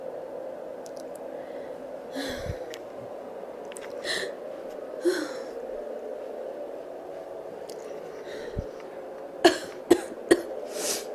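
Several soft, scattered coughs over a quiet background, ending in a quick cluster of three sharper coughs near the close.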